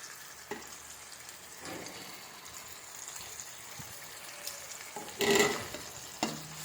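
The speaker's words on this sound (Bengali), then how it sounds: "একটু নাড়াচাড়া করে নেব মশলাটা দিয়ে" Vegetables and spices are stirred in a frying pan while making a sour dish of aubergine, potato and hog plum, giving soft scraping and gentle sizzling with a louder clatter of the spoon near the end.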